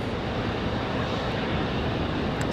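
Endeavor Air Delta Connection jet at Raleigh-Durham airport, a steady broadband engine roar with some wind noise, continuous and fairly loud throughout with no talking.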